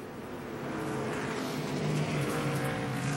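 A NASCAR race car circles the track at Atlanta Motor Speedway, its engine a distant, steady roar that swells slightly as it carries on through the lap.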